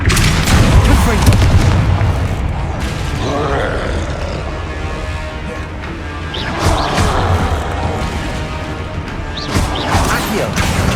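Confringo fire blast spell in Hogwarts Legacy, the video game: loud, booming explosive blasts with crashing impacts over a continuous, dense background of combat effects, with a few sharper bursts toward the end.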